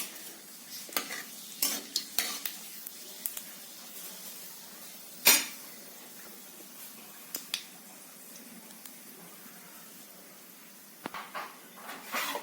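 Panch phoron spices with bay leaf fry in hot oil, giving a soft, steady sizzle broken by scattered clicks and a sharp pop around five seconds, with no talking.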